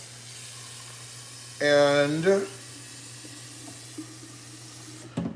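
A kitchen tap runs briefly into a container while someone bakes a homemade crust, a short burst of splashing water under a steady background hum, followed by a single clunk; a voice speaks briefly.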